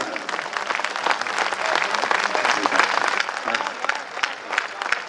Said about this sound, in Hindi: ये तालियां कम है दोस्त